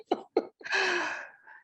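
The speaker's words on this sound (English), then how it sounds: "It has me sneezing." A person sneezes once after two quick sharp inhaled gasps, the sneeze a loud, drawn-out burst close up that trails off, with no other sound around it.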